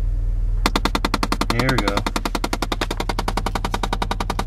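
A 2006 Chevy Impala LT engine with 106,000 miles gives off a loud, rapid, steady metallic knocking, hammering evenly throughout at close range while someone speaks briefly over it.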